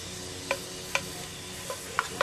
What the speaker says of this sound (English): add our bacon. And we're going to let that saute for just a couple of minutes